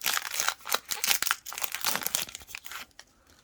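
An NBA Hoops trading card pack wrapper is ripped open by hand, a close run of sharp crinkling and tearing bursts, quick and uneven, fading out near the end with no talking.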